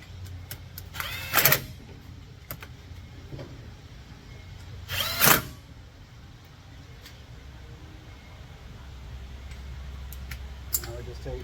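A power tool runs down the pinion bolts on a Ford Transit during a pinion seal replacement in two short, loud, whirring bursts a few seconds apart, with a low idle hum between them.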